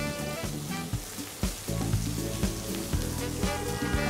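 Seafood sizzles steadily in a hot frying pan, a continuous crackling hiss with small pops, over a faint tonal background hum.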